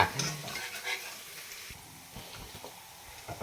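Garlic sautés in a pan for garlic fried rice, a soft close sizzle with stirring scrapes, louder at first and then settling into a quieter hiss.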